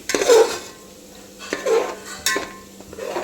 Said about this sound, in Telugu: సో మసాలాలన్నీ వేగిపోయాక దీంట్లో మనం వేయించి పెట్టుకున్న ఉల్లిగడ్డ, పెరుగు కూడా వేసి మసాలాని మంచిగా కలుపుకుందాము